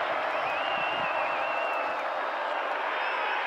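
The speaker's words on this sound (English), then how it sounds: "this crowd, which actually was evacuated from the stadium because of weather, is getting fairly loud again" A loud crowd at a Purdue–Minnesota college football game fills the stadium with a steady roar and scattered whoops, running continuously while an announcer talks over it.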